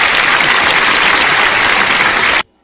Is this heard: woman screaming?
no